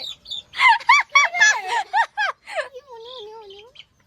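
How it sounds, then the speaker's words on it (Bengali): Chicks close by let out a quick run of loud, sharp peeps, then a few slower, drawn-out calls before falling quiet. "আমার মুরগির বাচ্চা অনেক ভালো লাগে।"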